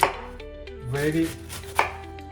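A knife chops through cabbage for homemade sauerkraut in a few sharp, close cuts, with a louder strike at the start and another near the end, and no talking.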